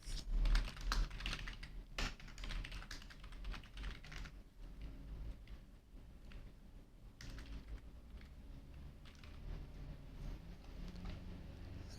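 Steady, rapid clatter of fingers on a computer keyboard while a test email is written, the keystrokes continuous and close for the whole stretch with no voices.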